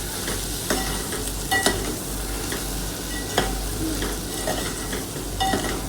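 Vegetables roasting in oil over a low gas flame with goda masala, a utensil stirring them now and then, giving a steady close sizzle broken by a few scraping clicks.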